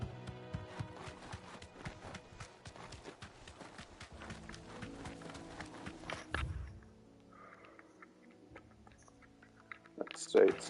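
Rapid rhythmic hoof clip-clops of a galloping horse in Final Fantasy XVI, close and steady, with game music underneath, then slowing and fading before a final thump.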